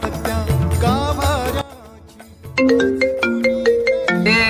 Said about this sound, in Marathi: अरे काय यार, फोन लावले घडी घडी